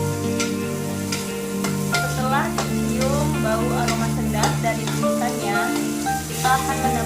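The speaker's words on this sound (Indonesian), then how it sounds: "Lalu kita masukkan bahan-bahan yang sudah saya sebutkan tadi. Lalu kita tumis" Spices and aromatics stir-fried in a pan for nasi jamblang, the Cirebon rice dish, with a steady close sizzle throughout and the clatter of a spatula scraping through the pan.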